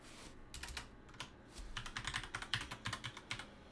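A computer keyboard being typed on nearby, with sparse keystrokes at first and then a quick run of clicky presses, alone in a quiet room.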